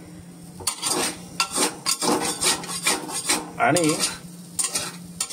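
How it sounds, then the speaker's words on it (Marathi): A spoon stirs and scrapes a thick vatli dal mixture with fresh coriander in a pot, rhythmic close-up scraping strokes with a brief spoken word among them. "तर आता हे व्यवस्थित ढवळून घ्यायचे"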